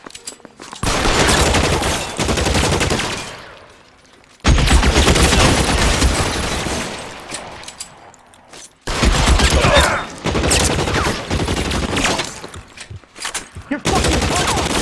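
Rapid gunfire from a shootout in the video game L.A. Noire comes in dense, loud bursts of overlapping shots, broken by brief pauses, with voices mixed in.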